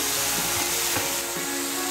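Onion paste for butter chicken fries in a pan with a dense, continuous sizzle, while a few soft stirring knocks break through. No voices are heard.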